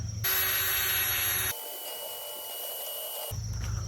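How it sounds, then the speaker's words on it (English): A power drill whirs steadily at high speed, then its pitch drops as it bites into cheap plywood, before spinning freely again. "let me drill a hole and get the jigsaw and we'll cut that out"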